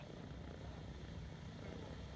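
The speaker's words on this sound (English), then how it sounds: "It's of course the one and only Boeing B-17 Flying Fortress" Boeing B-17 Flying Fortress Sally B at the Flying Legends 2018 airshow at Duxford, its piston engines giving a steady, unbroken propeller drone over the short stretch, with a voice faintly over it.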